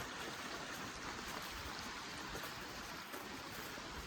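Old Fort Creek in Kananaskis rushes steadily nearby, a continuous broadband wash of flowing water with no pauses and no voices.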